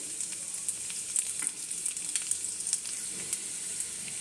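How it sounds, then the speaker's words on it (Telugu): Garlic sizzling in a small amount of ghee on a lit stove, a steady high crackle with occasional sharper pops, close and continuous with no talking. "కొద్దిగా గీ వేసుకున్నానండి చాలా తక్కువ వేసుకున్నాను దీంట్లో ఫస్ట్ వెల్లుల్లిపాయలు"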